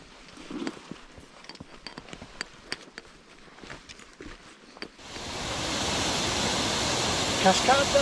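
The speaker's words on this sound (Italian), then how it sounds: "Cascata del fiume Tevere, come immaginavo, bella piena, bella carica." Footsteps on a trail give way to a loud, steady roar as the Tiber River waterfall comes into range in full flow, its broadband rush filling the second half.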